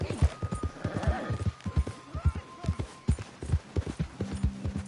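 Horse hooves clip-clop at a steady galloping rhythm in the video game Red Dead Redemption 2, close and clear, with a brief whinny mixed in.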